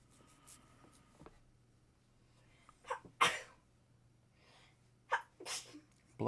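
A single sharp sneeze bursts out near the microphone during a Roblox game stream, with soft breaths around it in a quiet room.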